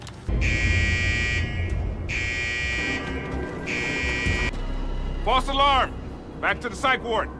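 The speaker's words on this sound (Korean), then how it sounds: "그들은 화재 경보기로 혼란을 야기하고" An electronic fire alarm in a prison sounds in three long, loud buzzing bursts separated by short gaps, followed by people talking briefly.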